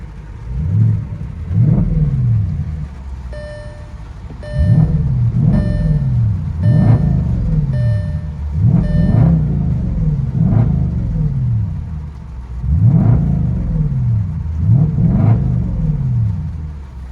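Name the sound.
straight-piped V8 car exhaust revving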